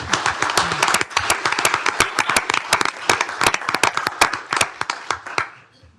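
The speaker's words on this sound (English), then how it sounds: "Let's give them a round of applause for that." A small audience in a county commissioners court claps in a brisk, crowded round of applause that tapers off after several seconds.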